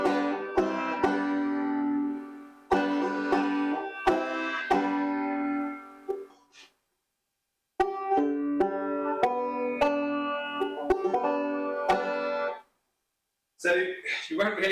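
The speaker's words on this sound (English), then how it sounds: "So standard banjo sounds like this." A factory-built standard five-string banjo played in bright metallic picked phrases, ringing chords and plucked runs in two short bursts separated by a pause, close and fairly loud with no talking.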